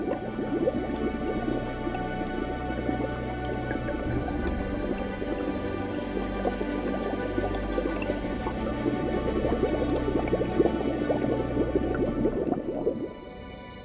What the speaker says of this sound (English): The volcano continues to bubble away underground, releasing foul-smelling toxic gases into the water.